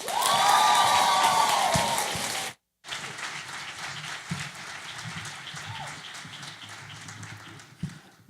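An audience at a 2018 conference applauds as two speakers come on stage, loud dense clapping with some cheering that cuts off abruptly, then a quieter room with scattered claps and murmurs.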